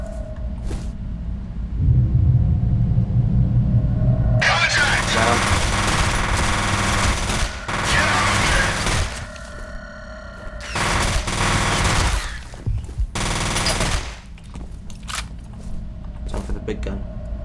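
Dense bursts of automatic gunfire in the shooter game F.E.A.R., loud and near, come in sustained volleys with short pauses between them, over game ambience and scattered sound effects.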